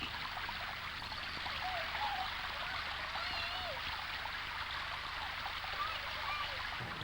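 Steady rush of the River Dee running through a deep valley at Llangollen, a continuous broad flowing-water wash with no breaks, moderately near and even in level throughout.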